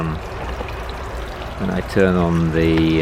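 Continuous pouring, splashing water of a small electric garden pond waterfall close by in mid June, with a person talking over it toward the end.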